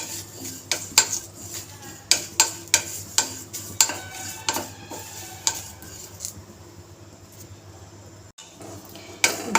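Cumin seeds fry in a pan on the stove, with sharp metallic clinks and scrapes of a spoon stirring against the pan in an uneven rhythm over a soft steady hiss, closing in a quieter sizzle.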